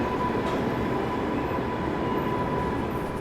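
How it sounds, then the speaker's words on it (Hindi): The Kota–New Delhi Humsafar Express rolls into a station with a steady, loud rumble of wheels and carriages, continuous and close, with no voices. "कोटा नई दिल्ली हमसफ़र एक्सप्रेस यहाँ इंटर कर चुकी है।"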